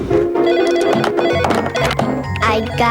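A telephone rings amid a busy holiday commercial, bright repeated ringing tones layered over music and other sounds.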